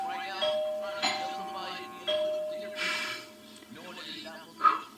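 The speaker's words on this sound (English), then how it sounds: "I get so scared when the doorbell rings." A doorbell rings several times, bright chime tones sounding in a repeating pattern, with voices and small noises mixed in between.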